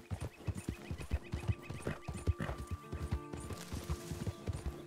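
Horse galloping in Red Dead Redemption 2, a quick rhythmic run of hoofbeats close up and steady throughout, with a brief whinny and faint game sounds.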